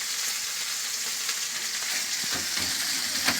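Manti fry in a pan over an open flame with a steady sizzle and constant crackling hiss, a few louder pops and stirring scrapes toward the end, no voices.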